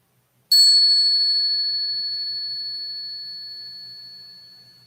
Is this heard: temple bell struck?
yes